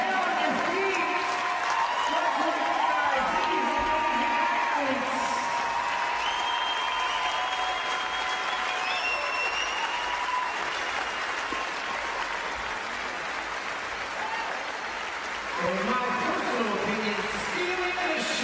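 Crowd at the 2021 CrossFit Games final cheering and applauding an athlete's last push for a rep, sustained loud applause with scattered shouts throughout, while an announcer talks over it.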